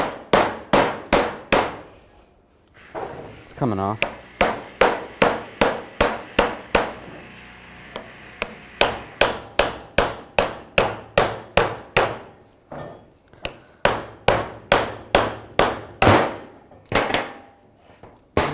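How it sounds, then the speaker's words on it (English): Repeated sharp metallic hammer blows tap a CV joint on a 2010-2017 Chevrolet Equinox in quick bursts, loud and close, with brief pauses between runs of taps; a voice speaks briefly midway. "just take a hammer, a few taps."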